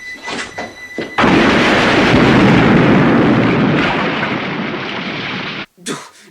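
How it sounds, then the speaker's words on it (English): Huge movie explosion that kills a woman and her husband, heard as a loud, sustained roaring blast lasting several seconds, then cutting off abruptly. "the Godfather of Talia Shire blew up both her and her husband"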